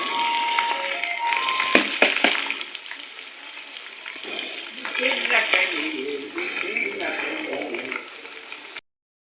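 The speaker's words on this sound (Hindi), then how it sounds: "चिकन हो गया माशाल्लाह अच्छे से फ्राई" Chicken fries in a pan with a loud, close, steady crackling sizzle, broken by sharp spoon scrapes and clinks as it is stirred, then cut off abruptly at the end.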